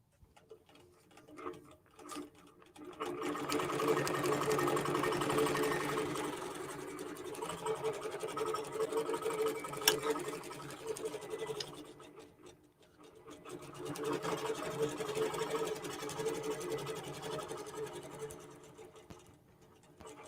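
A computerized quilting machine stitching out a quilt pattern, a steady fast mechanical whirr and ticking that swells, drops away around midway, then returns, with no talking.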